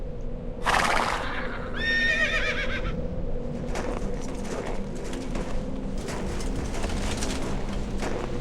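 A horse lets out a loud, shrill whinny, followed by another whinny, with hooves clopping and birds cooing in the background.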